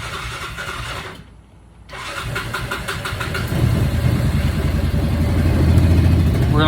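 A car engine goes quiet for a moment, then fires and settles into a steady, close idle that grows a little louder as it warms up. No one talks.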